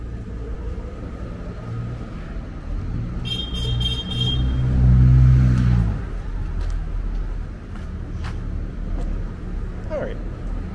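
Vehicle engines rumble on a city block lined with trucks at a sales lot in Red Hook, Brooklyn. A low engine swells loudly midway, a short horn toot sounds, and there is faint street noise.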